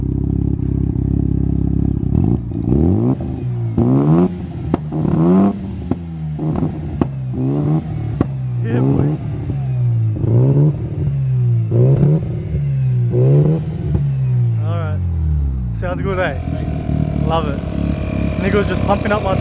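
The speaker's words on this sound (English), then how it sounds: "Give it a few revs, Dino." A Mazda FD RX-7 rotary engine, a barn find, revs repeatedly, rising and falling in a string of loud throttle blips, close up, then settles to a rough idle near the end.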